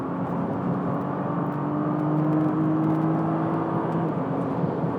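2013 Nissan GT-R engine accelerating hard down the main straight at Spa during a track-day hot lap, a steady, loud in-cabin drone with rising tone and constant road roar, no voices.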